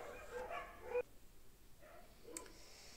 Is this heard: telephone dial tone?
no